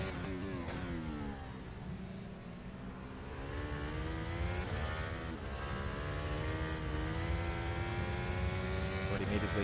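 An rFactor 2 Formula 1 car engine whining and revving through gear changes during a German GP race, pitch climbing and dropping, steady and continuous at a moderate distance.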